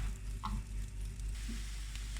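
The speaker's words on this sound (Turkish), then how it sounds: "Soğanı bir kavuralım." Steady low sizzling of a small onion sautéing in a pan, with a couple of faint clinks, continuous and close with no talking.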